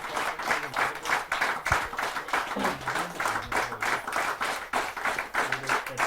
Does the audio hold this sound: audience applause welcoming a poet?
yes